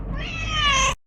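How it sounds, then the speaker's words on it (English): A pet domestic cat gives one loud, close, drawn-out meow of about a second that rises and then cuts off sharply, with no voices over it. "a cat that loves to seek for attention, so she will keep on kacau me when I am recording something"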